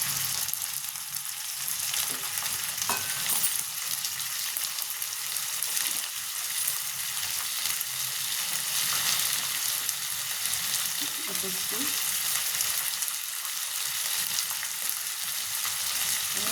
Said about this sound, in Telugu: చికెన్ వేసుకుంటున్నాను చూడండి.